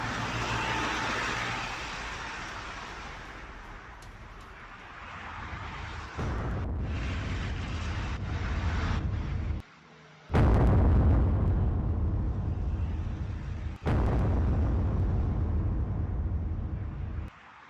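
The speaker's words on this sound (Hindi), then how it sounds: "हिजबुल्लाह के वेपन डिपो पर बड़ा हमला किया गया है" Blasts from an attack on a Hezbollah weapons depot: a series of loud, booming explosions with deep rumbling and sharp abrupt jumps between segments, heavy and sustained throughout.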